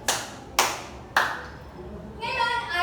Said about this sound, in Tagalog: bigyan niyo po ng 3 palakpak ang inyong mga sarili.